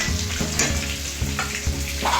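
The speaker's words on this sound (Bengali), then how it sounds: "এখন আমি বেগুনটা ভাজবো" Eggplant frying in a pan for a hilsa fish dish, a close, steady sizzle and crackle with a few soft stirring knocks and no talking.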